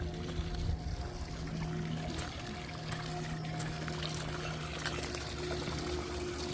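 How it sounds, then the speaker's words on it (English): Water flowing in a small garden fountain beside a koi pond at a house in Corona, California, a steady pouring trickle heard at moderate distance under faint outdoor background noise. "Beautiful little fountain."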